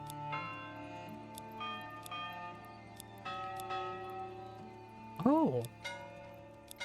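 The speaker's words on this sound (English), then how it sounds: "This is the church bell sound that everybody wants." A church bell tolls in the medieval city-building game Manor Lords, ringing several resonant strikes with long humming decay, moderately loud under game ambience, with a brief spoken exclamation partway through.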